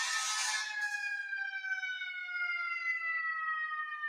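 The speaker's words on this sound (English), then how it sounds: "I'm going to just let y'all hear this siren as it rides by." An emergency vehicle siren passes by outdoors, a loud steady wailing tone that starts with a burst of broadband noise and then holds a sustained, slowly falling pitch.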